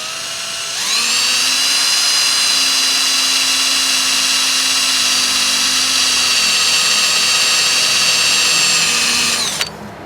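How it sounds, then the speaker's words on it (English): A power drill with a 3/32 bit bores into a broken exhaust bolt on a Wheel Horse 520-H, a loud steady high whine that starts abruptly, holds for about nine seconds and cuts off. "Starting with a 3/32 drill bit."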